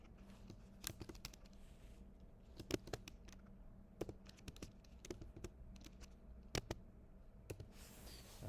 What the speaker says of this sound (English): so I will type in my password